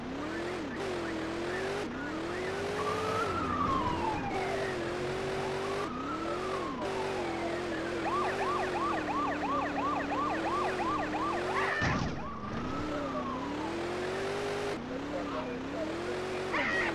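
Police car siren in the video game Grand Theft Auto 2, a wailing, rising-and-falling tone that switches briefly to a rapid yelp, heard along with engine noise and a voice talking over it.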